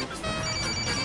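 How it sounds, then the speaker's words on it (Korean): A telephone rings loudly and continuously in a steady electronic trill, close and alone, filling the whole moment without pause. "아씨, 가게에서 전화 왔어."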